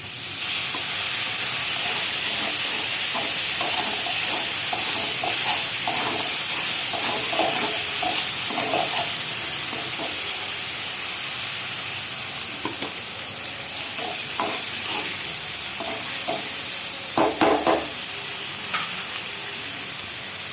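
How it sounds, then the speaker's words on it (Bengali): Potatoes frying in a pan with turmeric, chili powder and a splash of water, giving a loud, continuous close hiss and sizzle with intermittent stirring clatter and a short cluster of sharper crackles late on. "আলুটা সাথে এখন ভেজে নেব।"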